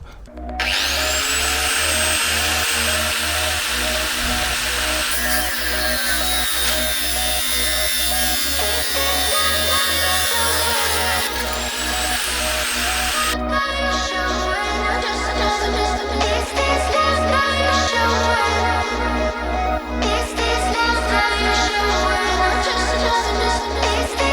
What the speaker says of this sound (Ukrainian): не буде ні регулятора і буде болгарка різати на станку